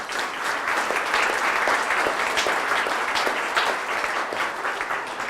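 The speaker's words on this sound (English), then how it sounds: "I think that's a round of applause" Sustained audience applause at a college library grand opening, a dense, steady wash of many hands clapping, fairly loud and even throughout.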